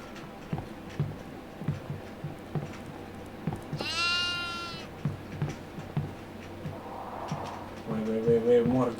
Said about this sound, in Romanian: Se aude o oaie, unde se aude?